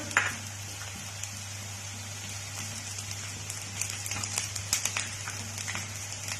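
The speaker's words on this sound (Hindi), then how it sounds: "और कैबेज, और इसको अच्छे से चला लेंगे।" Carrot, capsicum, bell pepper and cabbage sizzle in a hot pan while being stirred, a steady crackling fry over a low hum, with small scraping clicks from the stirring.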